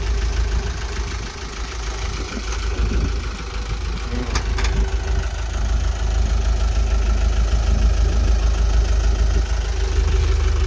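Idling engine of a 5-ton truck during a driving lesson, a steady, loud low rumble with a faint knocking texture and a couple of brief higher clicks partway through.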